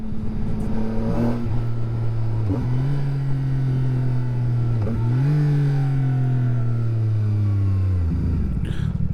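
A CF Moto 675SS sport motorcycle engine hums loudly while riding, its pitch climbing through gears with brief dips at each shift, then dropping off near the end, with wind noise throughout.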